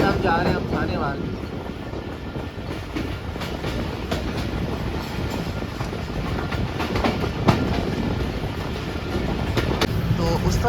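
The Pak Business Express passenger train, travelling from Karachi to Lahore, rumbles steadily along the rails with rhythmic wheel clatter and wind noise heard from inside a carriage, and someone talks over the noise.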